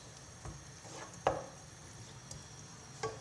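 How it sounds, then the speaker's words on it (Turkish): Onion and garlic sauté in a pan under a faint, steady sizzle, broken by a few light scrapes and taps of stirring, with one sharper clack near the middle and no talking. "Soğanımızı biraz kavuracağız."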